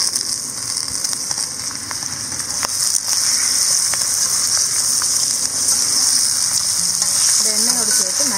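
Boiled potatoes go into hot oil with turmeric and fry with a loud, continuous hiss and crackle close by. Soft clinks and scrapes from stirring cut through the sizzle, and a voice briefly joins at the end.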